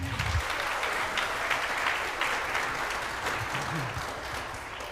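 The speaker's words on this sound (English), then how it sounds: "So, round of applause." Audience applause for the musicians, dense and steady clapping from a room of people that eases off gradually, with faint voices murmuring underneath.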